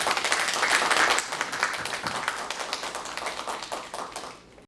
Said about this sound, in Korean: 큰 박수로 신동원 교수님을 맞이해 주시면 감사하겠습니다